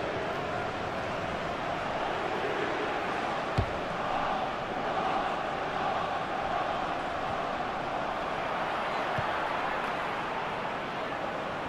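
A stadium crowd in FIFA 15 at a Luzern versus St. Gallen match keeps up a steady, broad roar of jeers and noise, distant and continuous, with one sharp knock partway through.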